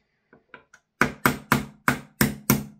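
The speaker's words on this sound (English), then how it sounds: "So I'm going to tap these out with a pin and a hammer here." A hammer drives a pin punch against the pins of an Umarex/VFC Gen.2 MP5K PDW gas blowback airsoft gun, starting with three light taps and then six sharp, loud, evenly spaced metallic strikes, close up.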